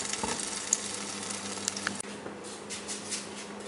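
A cheese-filled tortilla fries in garlic butter in a pan, giving a steady close sizzle with small pops and crackles throughout, with no talking.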